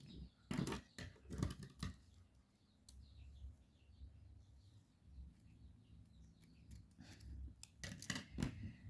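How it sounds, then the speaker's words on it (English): Scissors snip through crochet yarn thread in a few quiet, sharp cuts, clustered near the start and again near the end, against a soft room background with no talking. "I'm gonna cut this thread and then I'll go on."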